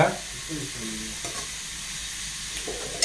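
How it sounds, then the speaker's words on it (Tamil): Chicken curry ingredients sauté in a pan with a soft, steady sizzle and faint stirring scrapes, fairly quiet and close. "நல்லா வதங்கட்டும்."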